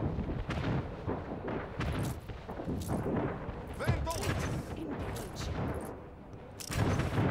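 A naval fleet opens cannon fire in the game Anno 1800, with repeated booming volleys and crackling blasts spread across the scene, fairly loud and overlapping, mixed with game effects.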